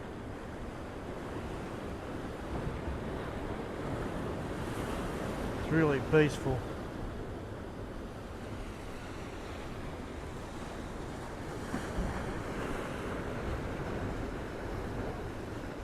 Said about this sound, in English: Just listening to the sound of that water on the rocks.